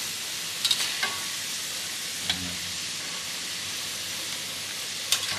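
Sweet potato curry puffs fry in hot oil with a steady, even sizzle and hiss, broken by a few faint clicks and pops, with no talking.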